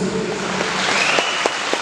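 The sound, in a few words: congregation applauding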